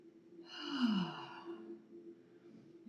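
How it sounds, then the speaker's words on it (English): A single deep sigh-like exhale during a yoga flow, close and soft, swelling then trailing off into quiet breathing with a low steady background hum. "Breathing."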